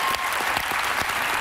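Studio audience at a daytime talk show breaks into steady, dense applause, a continuous wash of many hands clapping close and loud for the whole stretch.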